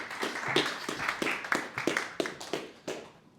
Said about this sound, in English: So, round of applause for Will